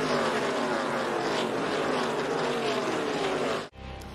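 ARCA Menards Series stock cars race at Talladega, a dense, loud roar of engines sweeping past in a continuous pack before cutting off abruptly near the end.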